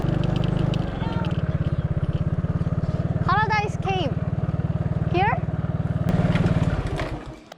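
A motorcycle engine idles steadily up close in a parking lot in Vietnam, with a throbbing low rumble, while a voice and other people chatter over it.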